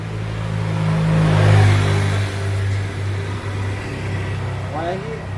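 A nearly new Honda Scoopy scooter with a rough-sounding engine, its throttle blipped into a loud rising rev that then settles to a steady drone, close to the microphone with people talking over it.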